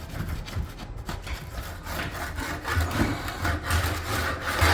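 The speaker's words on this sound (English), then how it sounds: "See, you can just scrape it off any high spots." A trowel scraping high spots off damp plaster on a bungalow wall during renovation, a close, continuous coarse rasping with repeated strokes and no talking.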